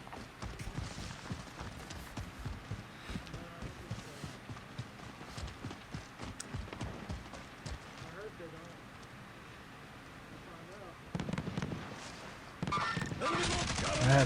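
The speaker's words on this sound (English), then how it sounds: "A little too unstable to be able to shoot this gun that far." Gunfire in Call of Duty, rapid repeated gunshots and bursts in an online match, loud and rhythmic for most of the stretch with footsteps-like thuds, then a louder noisy burst at the end.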